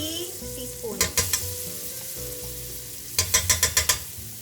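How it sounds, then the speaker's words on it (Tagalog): Garlic sizzles steadily in a hot pan while a utensil stirs it. The stirring comes as two bursts of quick, rhythmic scraping clicks over a continuous frying hiss. "we can now add the anytime garlic"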